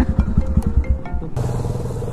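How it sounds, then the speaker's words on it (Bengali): A motorcycle engine blips and revs in quick rhythmic bursts during wheelie practice, then settles into a steadier, throatier drone, close and loud with no talking. "এখন টক্সে হুইলি মারার প্র্যাকটিস ভাই"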